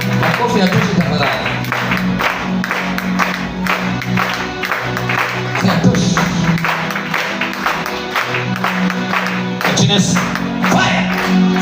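A church congregation at a deliverance prayer service applauds steadily and densely for the whole stretch, the clapping blended with voices and other sound.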